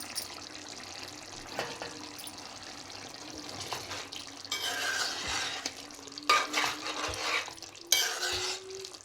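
Bottle gourd and chicken curry being stirred in a pot, a spoon scraping and churning through the thick gravy in repeated strokes with soft sizzling and wet squelching, fairly close.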